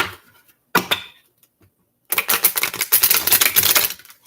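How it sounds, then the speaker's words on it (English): Tarot cards being shuffled by hand: a short papery riffle of clicks, a pause, then a longer, denser flutter of card edges, close and fairly loud, with no talking. "Shuffle them one more time because I feel like I need to."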